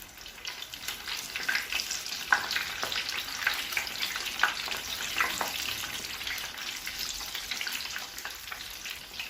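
Chicken thighs deep-frying in oil that covers the pieces, a steady dense sizzle with small popping crackles, close and continuous, no talking.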